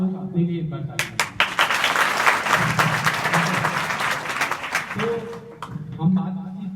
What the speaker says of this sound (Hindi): आप लोग अपने लिए एक बार ताली बजाएं।